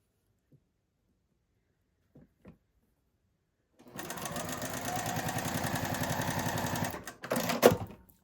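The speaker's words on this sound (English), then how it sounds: "You can be meticulous about the thread, or you can just sew." Sewing machine stitching nine-patch quilt pieces for a bag, a steady fast mechanical whir running for about three seconds after a few faint clicks, then a brief pause and a short final burst.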